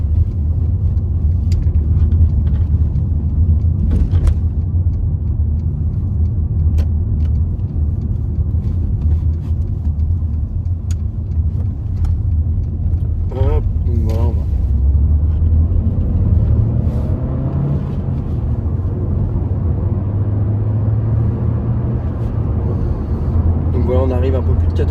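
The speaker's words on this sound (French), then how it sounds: "on fera une accélération un peu plus franche avec un freinage pareil assez franc" Mercedes A-Class driving on an open road, with a steady low engine and road rumble that swells under firmer acceleration and eases as it brakes hard, while someone talks over it throughout.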